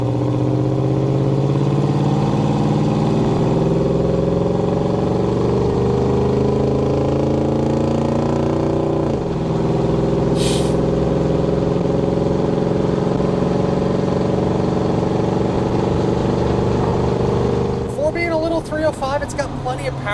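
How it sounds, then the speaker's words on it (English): A 1985 Chevrolet K10 pickup with a 305 V8 pulls hard on a test drive, engine drone rising in pitch through the gears with a shift midway, steady and loud from inside the cab, with someone talking over it. "let's go ahead and get in the throttle"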